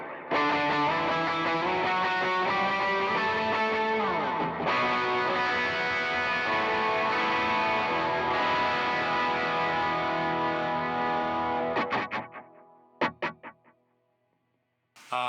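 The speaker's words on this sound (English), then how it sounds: "And then with a little plate reverb." A distorted electric guitar rings out sustained chords through an HX Stomp plate reverb, the sound full and washy, then fading into a few sharp plucked notes and silence.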